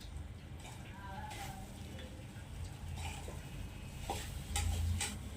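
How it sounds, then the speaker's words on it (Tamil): Raw banana podimas is stirred with salt in a pan, giving soft scraping and scattered light clinks of a utensil against the pan over a steady low background, with a faint sizzle. "இப்போ நல்லா உப்பு போட்டு நல்லா கலந்து விட்டுருங்க."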